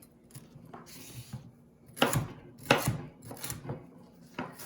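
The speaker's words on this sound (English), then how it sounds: "now time to start cutting up" A knife chops peppers into bite-sized pieces on a cutting board, giving a few spaced, sharp close knocks with quieter taps between them.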